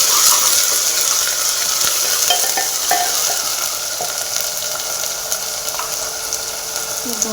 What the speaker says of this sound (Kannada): ತಿರ್ಗಾ ಇದನ್ನು ಒಂದು ಸ್ವಲ್ಪ ಆಯಿಲಲ್ಲಿ ಫ್ರೈ ಆಗಬೇಕು